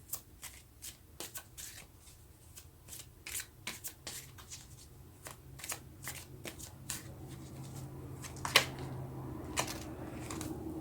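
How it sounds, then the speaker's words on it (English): Tarot cards are shuffled by hand with a quick run of crisp riffles and snaps, close and fairly quiet, over a low steady background hum with no talking. "So let's get some cards"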